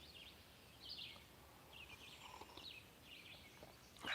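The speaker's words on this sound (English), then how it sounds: "More birds." Small birds chirp outdoors in scattered short bursts, faint and fairly distant over a low background hiss, with no talking.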